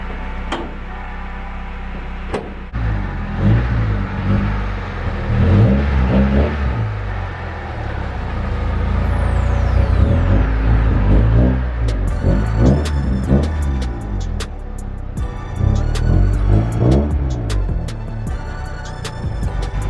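A Honda Del Sol car drives and its engine revs in loud, rising and falling surges, with steady road and engine rumble throughout and a few sharp clicks near the end.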